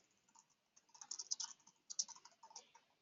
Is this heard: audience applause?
no